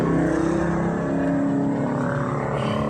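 A Supremo motorcycle engine runs close and loud during a test, holding a steady, rough idle with a throbbing pulse that fails to settle down to about 1,100 rpm.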